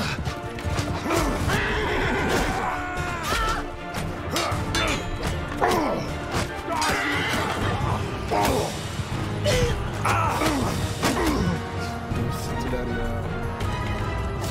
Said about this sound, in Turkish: Eşekler duruyor burada.